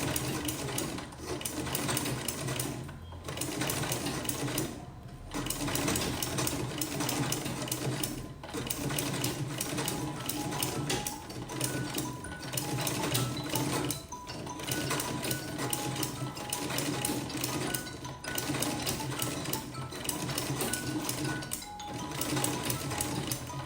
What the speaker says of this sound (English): I'm sewing the second leg now